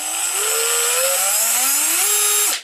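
A variable speed drill runs at its slow setting, a loud, steady motor whine that creeps slowly upward in pitch and cuts off sharply at the end, close and alone.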